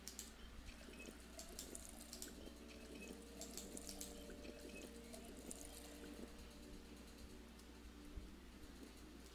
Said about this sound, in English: At the moment, I need to drink water.